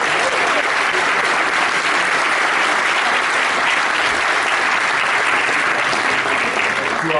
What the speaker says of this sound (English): Let's give Skerries a big round of applause.